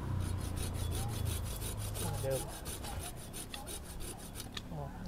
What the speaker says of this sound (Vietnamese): Anh lấy cái cưa, anh cưa cái này em coi cho nó thâm cái nào.